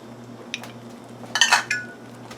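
Apples with butter, cinnamon and sugar stirred in a pan give a few light utensil scrapes and clinks against the metal, one brief tap and then a louder cluster of scraping near the middle, close-up with no talk.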